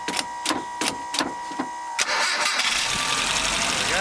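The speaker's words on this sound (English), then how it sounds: "So we'll do a cold start" A Mitsubishi van engine cranks with several rhythmic starter whirs, then catches on a cold start and settles into a steady, loud, close idle.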